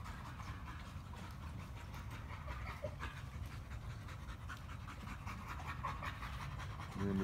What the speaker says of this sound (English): The sweetest dog.